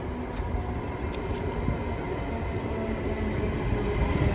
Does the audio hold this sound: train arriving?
yes